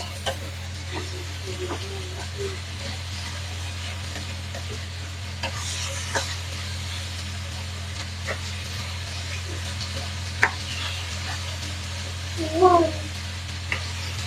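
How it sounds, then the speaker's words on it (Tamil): Carrots and other vegetables for stringhopper kotthu fry in a pan while being stirred, giving a soft, steady sizzle with scattered scraping taps and a brief higher squeak near the end. "கேரட்டையும் சேர்த்து கிளறி விட்டு கொள்ளுவோம்"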